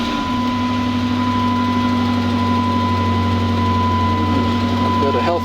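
A Dodge Charger engine idling steadily, a constant low hum with a sustained tonal whine over it, close and even throughout, with no talk.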